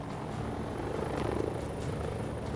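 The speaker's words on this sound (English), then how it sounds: "Helicopters technically shouldn't actually be able to fly anyway." Helicopter in the video game House of Ashes: a steady, close rotor-and-engine drone holding a constant level throughout, with broad rumbling noise and no talk.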